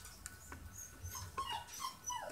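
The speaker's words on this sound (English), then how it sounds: "sorry for my dogs" Several dogs whimper indoors, letting out short, high whines and thin yips in an uneven string, fairly close and with no voices.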